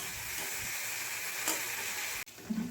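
Spice paste for a pabda fish curry sizzles and fries in hot oil, a steady close crackle running throughout with a brief stir near the end.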